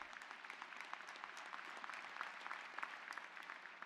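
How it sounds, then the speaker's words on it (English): Steady applause from a large audience at a 2014 Nova Southeastern University graduate and professional commencement, a dense, even patter of many hands at moderate level with no voices over it. "Give yourselves an applause."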